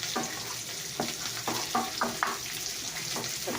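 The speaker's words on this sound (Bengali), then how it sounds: "একটু পেঁয়াজটা একটু ভাজা হোক" Onion frying in a pan crackles with a constant sizzle, close by, broken by a few scraping stirs.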